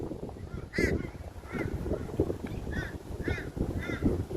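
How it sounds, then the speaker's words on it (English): Crows scavenging around a beachside track caw repeatedly, about six harsh calls spaced roughly half a second apart, fairly near and over gusty wind and outdoor rumble. "Bunch of crows hanging around a bit."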